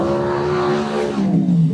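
A race car on a time trial circuit drones past at speed, its engine a loud sustained tone that dips in pitch as it pulls away, no voices over it.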